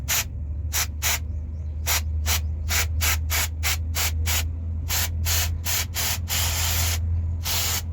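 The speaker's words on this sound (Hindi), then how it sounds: "अभी इसको हम क्लीन करने लगे हैं WD-40 स्प्रे से।" WD-40 is sprayed to clean a dusty transmission filter from a Honda Vezel. About fourteen short, hissing bursts come close up in an irregular rhythm, with a steady low hum underneath.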